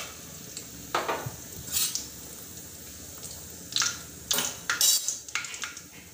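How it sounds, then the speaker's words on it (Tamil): Whole cinnamon, cloves and cumin crackling in hot oil for an egg kuzhambu, a low sizzle under scattered metallic scrapes and clinks of a spoon against the pan, close and without talk. "இப்போ வந்து இதில் எண்ணெய் காஞ்சிருச்சு, பட்டை கிராம்பு, ஜீரகம் இதெல்லாம் எடுத்து வச்சோம்னா அதை போட்டுக்கலாம்"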